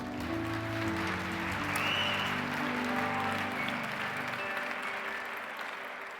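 A church congregation applauds for the Lord during a Spanish-language sermon, a steady wash of many hands clapping at moderate distance that tapers off near the end.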